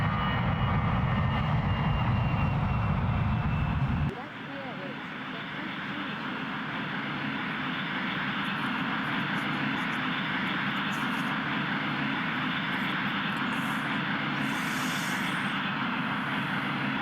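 Aircraft engines in the I Am An Air Traffic Controller 4 game at Naha rumble loudly with a low roar for about four seconds, then drop to a steadier, softer whine and hum that continues to the end.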